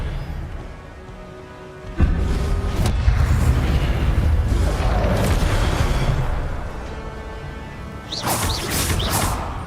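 Spells cast in Hogwarts Legacy, heard as a steady run of magical whooshes, crackling bursts and booming impacts, with a sudden loud blast around two seconds in and sharp bright zaps near the end.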